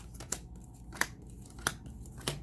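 Tarot cards are shuffled close up in four short, evenly spaced bursts of crisp card riffling, each a quick papery snap against a quiet room.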